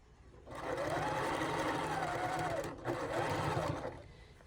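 A sewing machine stitching a quilted Christmas stocking from the inside, one sustained close whirring run of about three seconds with a brief dip midway and a rising, falling pitch, no voices.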